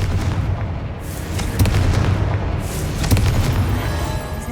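Explosions from the Confringo fire spell in Hogwarts Legacy destroying spider egg sacs, a run of loud booming blasts with sharp cracking bursts, rumbling one after another without speech.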